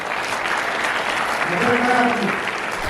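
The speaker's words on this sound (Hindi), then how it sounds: "एक बार फिर जोरदार तालियां।" Loud, dense applause from a crowd at a grand celebration in Kota for a top JEE Main 2025 result, steady throughout with voices cheering over it.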